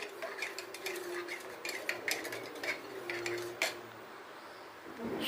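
A metal spoon clinks and scrapes rapidly against a tumbler while stirring Kumbakonam degree filter coffee to dissolve the powder, close-up, irregular bright taps over a quiet background.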